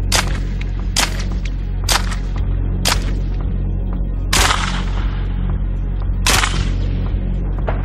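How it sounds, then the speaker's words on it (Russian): An AEK-919K Kashtan submachine gun fires a series of sharp, loud bursts at irregular intervals over a steady low rumble, each crack trailing off in a short echo, with no voices. "Очень легко удерживается во время проведения длинной очереди и хорошо управляемо при стрельбе короткими очередями."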